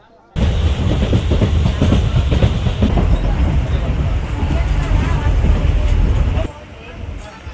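A train from Tiruvannamalai to Chennai Beach rumbles steadily along the tracks with broad, continuous noise and faint clattering, then the sound drops off abruptly near the end.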